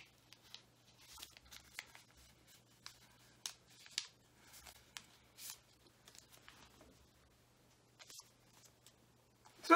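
A paper note being folded up, with soft, close crinkles and scattered creasing rustles in irregular bursts against near silence, ending in a louder rustle.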